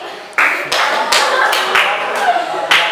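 A classroom of students claps together in a rhythmic clapping game, producing several sharp, loud group claps in quick, uneven pattern with a voice calling along.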